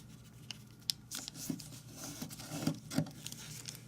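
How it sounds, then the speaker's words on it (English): Square origami paper being folded into a Pokémon ball, with soft close crinkles, creases being pressed and scattered light rustling taps, quiet and intermittent. "let's fold this corner to the top"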